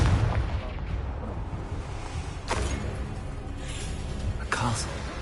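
In Hogwarts Legacy, a Confringo blasting spell bursts with explosive booms amid rumbling game ambience. Two sharp blasts stand out a couple of seconds apart, under a person speaking.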